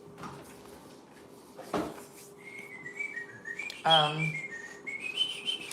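Someone whistles a short, wavering tune at close range after a few quiet clicks and a brief thump, the melody rising and falling in bright notes.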